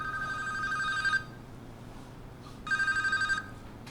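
A telephone rings in an interview setting: two electronic trilling bursts, each about a second long with a pause between, heard clearly over faint room noise and no talk.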